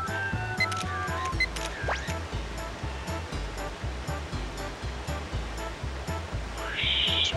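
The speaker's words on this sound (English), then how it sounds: "Tiny waterfall" A small waterfall in the video game Pokemon Snap rushes steadily beneath rhythmic, pulsing game music, with a few brief chirps and tones layered on top and no talk.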